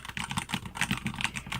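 Rapid, close clacking keystrokes on a DURGOD mechanical keyboard, a dense, steady run of crisp clicks with no voices over them.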